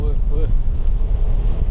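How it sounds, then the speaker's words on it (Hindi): Strong storm wind buffets the open deck of a large cruise ship sailing between Jeju and Busan, a steady loud roaring rush with mic wind noise and brief muffled voice sounds over low rumble. "बहुत तेज़ हवा है यार।"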